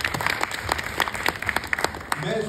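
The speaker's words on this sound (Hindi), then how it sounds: "सब लोग मिलकर एक बार ताली बजा सकते" An audience claps at an event in Film City, Goregaon, Mumbai, a steady patter of many hands that swells and fades, with a voice speaking over parts of it.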